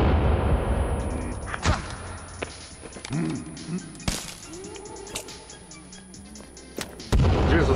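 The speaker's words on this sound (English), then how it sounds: "Explode, explode!" Sticky bomb blasts in the survival game Sons of the Forest, several sharp booming bursts spread across the stretch amid excited shouting and talk.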